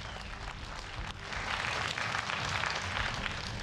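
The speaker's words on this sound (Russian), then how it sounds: "давайте аплодисментами поблагодарим боксеров" A crowd in a boxing arena applauds the two boxers after their bout; the wash of clapping starts moderate and swells louder after the first second, then holds steady.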